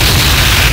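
A loud, booming burst as the Raikouken special move hits in King of Fighters 97 fills the short moment, dense and saturated throughout.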